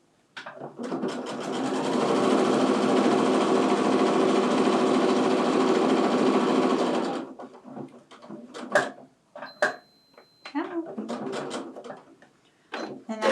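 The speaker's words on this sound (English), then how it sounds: "I'm just going to go ahead and sew all the way to the end" A sewing machine stitches the final seam of quilt fabric for split quarter square triangles, a loud steady whirring run lasting about seven seconds, then stopping, followed by soft handling clicks and rustles.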